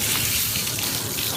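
Tap water runs in a steady, close, continuous rush in an Antillean home kitchen, with no voices over it.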